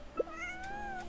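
A short, clear cat meow in the Genshin Impact video game, a single soft cry over a quiet musical background.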